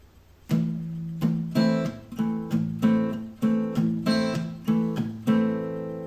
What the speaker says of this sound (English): dude is palm muting his down strums to make it sound like this.